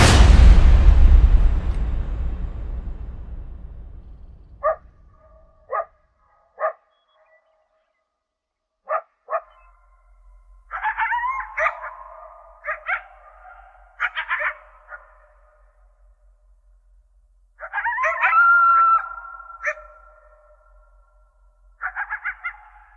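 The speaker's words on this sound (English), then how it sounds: "we awoke to the sound of a lone coyote in the clearing just outside our tents" A lone coyote calls from a clearing before sunrise, a series of short yips followed by longer wavering howls, fairly near and alone in a quiet early-morning setting after a fading noise at the start.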